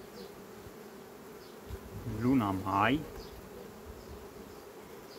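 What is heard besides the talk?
honey bees buzzing at a beehive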